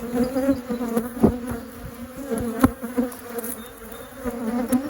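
Agitated honeybees swarm around an open single brood chamber hive, a close, dense, wavering buzz with individual bees whizzing past the listener and flaring louder at moments.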